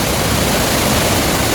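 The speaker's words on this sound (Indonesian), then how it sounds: "gemuruh ini adalah suara dari air terjun di Curug Malela." Roar of the Curug Malela waterfall, a dense, steady broadband rush of falling water, loud and close, with no breaks or voices.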